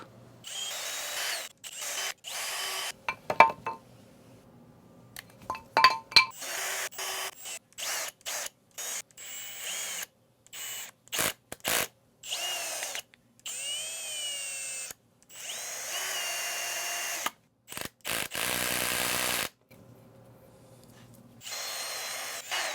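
A power screwdriver drives 10 by 1 3/4 inch countersunk wood screws into a wooden block, with repeated short whirring bursts separated by pauses.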